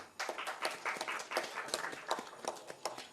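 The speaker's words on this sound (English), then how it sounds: "So a round of applause for Vinod." Audience members at a tech startup summit give a faint round of applause, a thin scattering of individual claps in an uneven rhythm that carries on for a few seconds.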